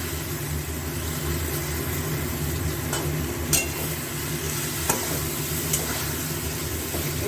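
Hilsa fish pieces and chunks of eggplant dusted with turmeric fry in a pan, giving off a steady close hiss broken by a few sharp clinks as they are stirred.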